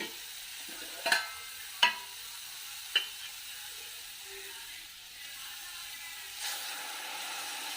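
Grated carrot frying in ghee gives a soft, steady sizzle, broken by a few sharp scrapes and clicks as a spoon stirs the pan.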